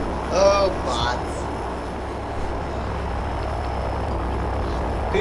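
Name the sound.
airplane engine in Left 4 Dead 2 video game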